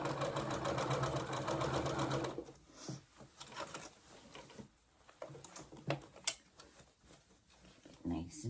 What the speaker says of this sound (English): now we're sewing the next sleeve on